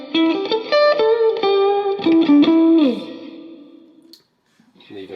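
Electric guitar notes played through a reverb pedal on its plate setting, a Fender guitar into a Fender-style amp, with bright sustained tones and bends ringing out, then a smooth reverb tail fading to near silence before a brief new note.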